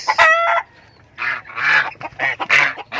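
A goose honks loudly and repeatedly while arranging its nest, sharp nasal calls coming in short bursts with brief pauses, close and clear, with no talking.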